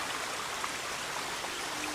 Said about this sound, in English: The water's flowing down in that underground tunnel and coming out over there in that trench.